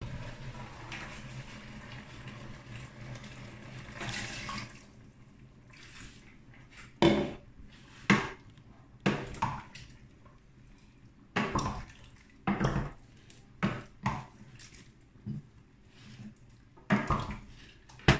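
Water splashes and pours in several short bursts into a metal cooking pot, with clinks and drips between pours over a faint background hum.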